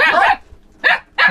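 An agitated dog gives three sharp, close barks: one long harsh outburst, then two short snaps after brief pauses.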